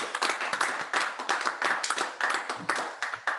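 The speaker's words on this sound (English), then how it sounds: "Hey, Jason got a clap" A small group of people clapping at an outdoor reveal event, quick rhythmic hand claps in bursts, moderately close and clear with no speech over them.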